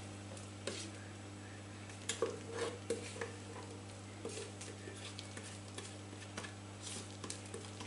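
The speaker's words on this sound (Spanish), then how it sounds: "lo que vamos a hacer es mezclar el queso con la nata" Cheese and cream are mixed in a bowl for an eggless tiramisu, giving faint, close stirring and scraping with light wet pattering over a low steady hum.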